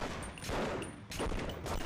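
Rapid gunfire from a shooter video game comes in repeated bursts of sharp cracks, loud and close, with brief gaps between volleys and no talking.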